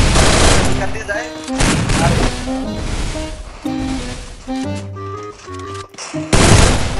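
Rapid gunfire bursts crackle through a mobile shooting game match, loud and close, with game music and effects layered in and a player's excited voice between the volleys.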